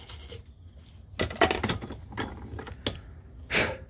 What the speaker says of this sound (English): Just going to clean up these threads a little bit